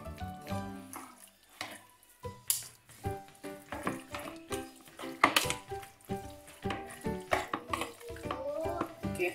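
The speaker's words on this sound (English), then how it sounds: "I want to stir all the other ingredients together. Try to mix them all up." Chicken satay ingredients being stirred together in a bowl, with repeated clinks and scrapes of a utensil against the dish in an uneven rhythm, fairly quiet and close, with occasional faint clatters.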